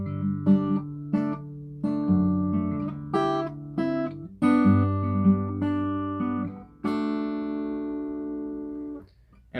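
Acoustic guitar without a capo strums the chord progression of the second half of a song, steady phrases of ringing chords with brief gaps between changes, close and alone.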